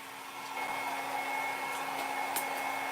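A hair dryer blows steadily to dry paint during a painting session, a constant close whirring hum that holds at an even level for the whole stretch with no talking.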